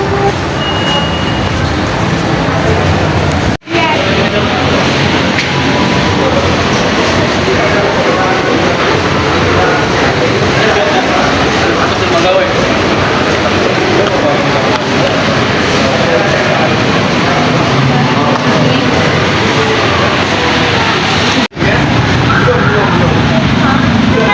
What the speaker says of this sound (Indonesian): Sekarang kita udah sampai di stasiun Bogor.